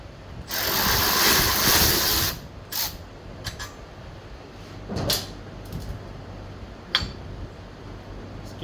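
A ratchet works a 12 mm bolt on a 2003 Honda Elite 80 scooter, first a dense burst of clicking, then a few sharper isolated ratchet clicks and clanks, close and fairly loud with no talk.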